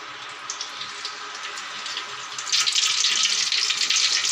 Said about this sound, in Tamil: எண்ணெய் கொதிச்சிட்ருக்கு.